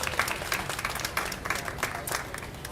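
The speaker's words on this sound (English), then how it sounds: "Can we get a round of applause for SDOT" An outdoor crowd at a Seattle public space unveiling claps for the city transportation department, giving fairly light, uneven applause with distinct individual claps audible, and a few voices faintly mixed in.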